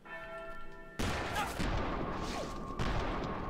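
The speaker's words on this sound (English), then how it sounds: "we have to do it with, fortunately, the strongest weapon in the game, the volcano pistol" Volcano pistol gunshots in a duel in Call of Juarez: a sharp, loud shot breaks after a ringing bell-like tone and is followed by a second blast with rumbling echo, close and forceful, with some faint speech beneath.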